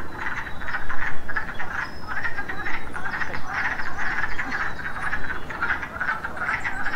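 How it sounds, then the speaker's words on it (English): A chorus of wood frogs croaks in rapid, overlapping clucks that pulse steadily, sounding almost like distant ducks quacking. "Would you believe that these little wood frogs are the ones making that sound?"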